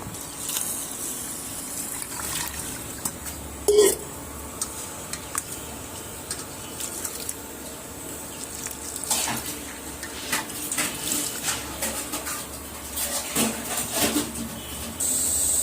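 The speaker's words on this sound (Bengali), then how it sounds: "এবার চালটাকে ভালো করে জল দিয়ে ধুয়ে নেব।" Rice being rinsed under running water for a prawn biryani, a steady tap stream with intermittent clinks and splashes as the grains are swished, close and moderately loud throughout.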